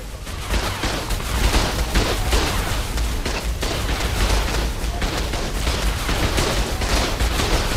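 Automated base turrets in Ark Survival blast away in a dense, continuous barrage of rapid gunfire, loud and close, with no pause across the stretch.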